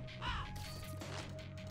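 Crows caw in The Binding of Isaac Repentance game, a couple of harsh calls early on over steady low game music and background sound.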